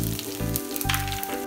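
Garlic crackles in hot oil with mustard and cumin seeds, a loud, close, crisp sizzle with spattering pops and a low hum beneath.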